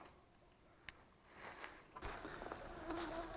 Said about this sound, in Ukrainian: Такий самий рій літає.